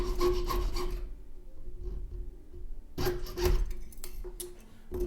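A fine jeweler's saw cuts through a metal ring in quick back-and-forth rasping strokes, close and steady, pausing for about two seconds before the rhythmic sawing resumes.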